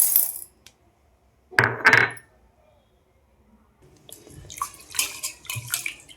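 Chana dal being washed in water in a home kitchen: a brief splash and rustle at the start, a louder burst of sloshing and clinking grains, a pause, then a run of scattered swishing and trickling sounds.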